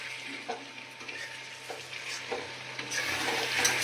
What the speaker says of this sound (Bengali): আজকে চিকেন রান্না করছি লোহার কড়াইয়ে